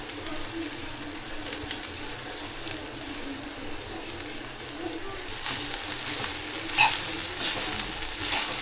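Tempering for kande pohe sizzles softly in a pan, a steady low crackle running throughout with a few brief louder clinks near the end.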